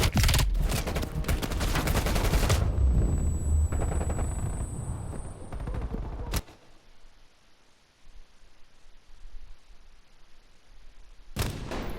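Heavy machine gun fire in the shooter Call of Duty Black Ops Cold War: a dense, roaring wall of sustained fire for several seconds, then a quieter stretch broken by a few sharp single blasts.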